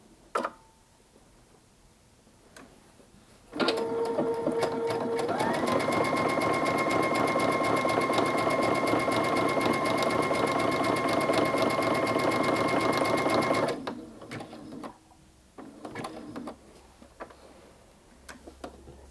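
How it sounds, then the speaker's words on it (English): A sewing machine stitches an appliqued gnome mug rug in one long, steady whirring run of about ten seconds, close and fairly loud, framed by a few quiet clicks and short stitches before and after. "So I will actually backstitch at the top here just to really make sure it's secure."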